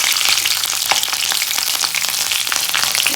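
Green chillies fry in a hot pan with a loud, steady sizzle and crackle close up, dense spitting oil throughout and no voices.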